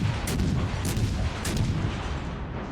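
Battleship main guns firing in World of Warships Legends, on a Tier 5 Russian battleship: three booming salvos in quick succession over a heavy low rumble, loud and close.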